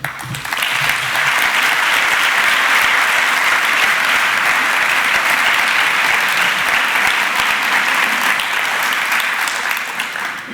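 A large crowd at a public talk applauds steadily and loudly, sustained clapping filling the whole stretch without a break.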